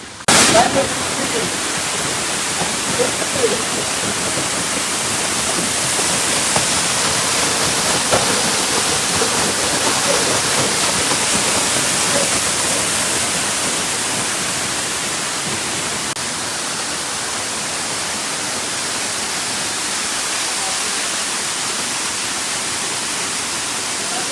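Gızlıkent waterfall roars with a loud, steady rush of falling water, a broad continuous wash after a brief thump at the start, easing slightly in the last third.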